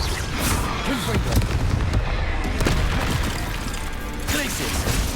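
Confringo fire spell blasts in the Hogwarts Legacy video game, a dense stream of booming, crackling explosive impacts layered over game music and effects, loud and continuous with occasional talk mixed in.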